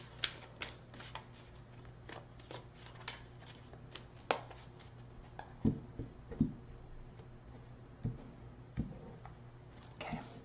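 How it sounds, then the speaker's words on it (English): Tarot cards being shuffled by hand in a series of crisp, riffling bursts with short pauses between them, close and clear against a quiet room with a faint low hum. "Two more shuffles."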